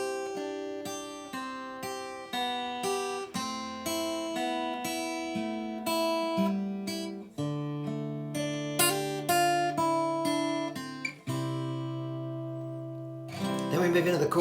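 An acoustic guitar picks out the single-note melody of a song, with clear plucked notes ringing one after another, then a strummed chord near the end, played close and alone.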